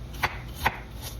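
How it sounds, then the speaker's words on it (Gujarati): A knife finely chops red and white onions on a board for broccoli soup, giving two crisp, close chopping knocks about half a second apart. "જોઈ શકાય છે હું સમારી રહ્યો છું."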